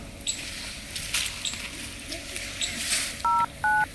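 Two short electronic keypad tones from a telephone being dialed, close and clear near the end, after faint background rustling and muffled sounds.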